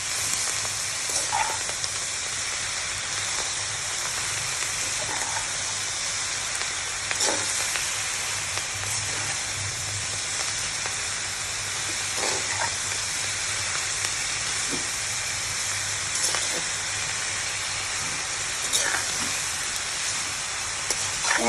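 Leafy greens fry in a hot pan with a steady, dense sizzle and hiss that continues unbroken, with occasional soft stirring scrapes close by.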